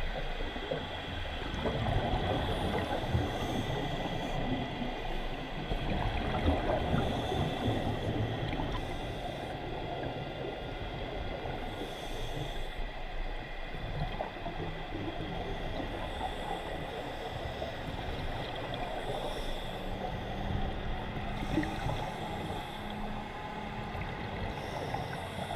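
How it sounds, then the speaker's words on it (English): Boat propellers overhead, heard from underwater on a lake dive, make a continuous churning, rumbling drone with faint ticks and bubbling, moderately quiet and unbroken. "The menacing sound of propellers overhead could be heard throughout the course of our dive"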